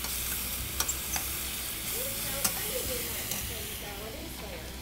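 Zucchini and tomatoes cooking in a skillet give a soft, steady sizzle with occasional sharp ticks and clinks, heard up close beneath faint voices.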